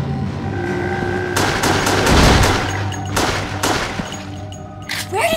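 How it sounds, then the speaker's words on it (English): Gunfire in the video game Resident Evil The Darkside Chronicles: several sharp shots and bursts over a low ambient drone, with one heavier boom in the middle. "A gunshot."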